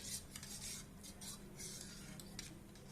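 A spoon scrapes and stirs ragi milk with sugar and cardamom in a pot over a low-to-medium gas flame, giving faint, close, irregular rubbing and scraping strokes.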